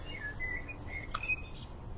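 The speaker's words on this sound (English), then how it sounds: "they are recorded birds" Recorded birdsong plays softly as background nature sound, with faint thin chirps and tweets over a quiet, steady hiss.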